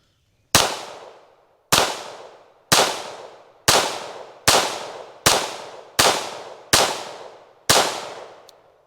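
A Staccato XC pistol fires nine sharp, loud shots at a pink target in a steady, evenly spaced rhythm, each crack followed by a brief ringing decay.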